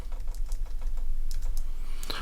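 Keys tapped on a computer keyboard while working in the Studio One music software, a quick series of light clicks followed by a few louder presses near the end, close up, with no speech.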